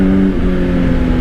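A 2025 Honda CBR600RR motorcycle engine revs in a loud, close blip, its pitch shifting briefly before it settles into a steady drone.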